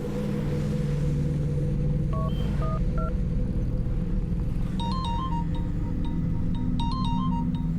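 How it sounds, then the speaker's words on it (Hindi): A phone rings with repeated electronic tone patterns over a constant low engine-like rumble, the ringing coming in short melodic bursts. "अनु देखना किसका फोन है"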